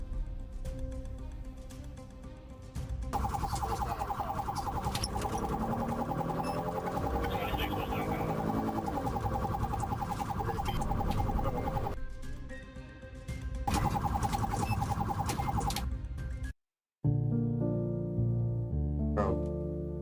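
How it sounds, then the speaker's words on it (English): A loud, steady wailing police car siren holds for long stretches, cuts out briefly, returns, then drops away to quieter tones at the end. "The officer lit up his sirens, and the chase was on"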